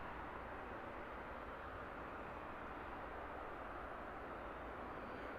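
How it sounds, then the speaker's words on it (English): A British Airways Airbus A319 arriving at Heathrow from Marseille gives a steady, even jet roar that holds for the whole stretch, with no voices over it. "This is British Airways flight 353, A319, in from Marseille"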